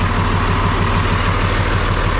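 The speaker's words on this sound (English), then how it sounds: "It's just a constant ticking. Well, I got the motor running." A car engine idles steadily nearby, a loud, even low rumble with a faint regular ticking running through it and no talking.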